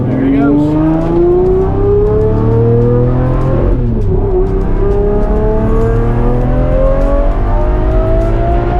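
A 1,500 hp twin-turbo Dodge Viper accelerates hard, its loud engine note climbing in pitch through each gear before dropping at a quick, smooth shift near the middle, then pulling upward again continuously.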